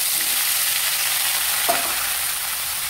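Tempered spices and small diced potatoes frying in hot oil, giving a steady close sizzle with a single brief clink of a utensil partway through.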